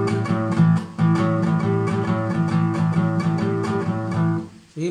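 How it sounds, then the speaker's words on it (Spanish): Slow blues rhythm in A on guitar, an even run of strums over ringing low notes, close and loud, played alone before stopping near the end. "vamos a grabar el ritmo de blues"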